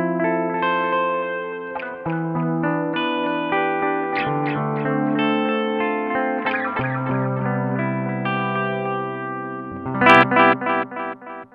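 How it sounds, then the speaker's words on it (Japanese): Electric guitar plays chords and single notes through a BOSS DD-20 Giga Delay in tape echo mode modelling the Roland RE-201, each note trailing warm, repeating echoes; loud and alone. "ローランドのテープエコーですね、 RE201 をモデリングした音色です。"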